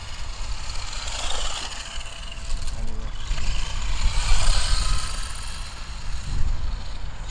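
A Tamiya Voltec Fighter RC car drives on asphalt, its small electric motor whining and rising in surges over constant broadband road and wind noise, fairly loud and close.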